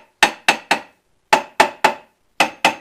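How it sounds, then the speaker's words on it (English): A hammer taps metal while a blower is rebuilt and its parts separated, sharp ringing strikes in small groups of three and two with pauses between, close and loud with no talk. "And then take the hammer, tap it a little"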